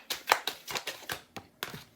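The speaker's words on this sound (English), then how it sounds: "Last shuffle." A tarot card deck is shuffled by hand: about nine crisp, papery flicks in quick uneven succession, close and clear with no talk.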